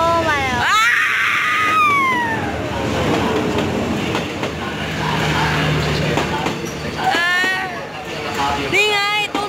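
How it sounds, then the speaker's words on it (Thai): Sleeper train arriving at a station in Thailand en route to Chiang Mai, loud rumbling and clattering of rail cars with long squealing brake screeches, close by, while people talk and exclaim nearby. "นี่ครับผมนี่คือรถไฟตู้นอนเรามารีวิวกันนะครับผม"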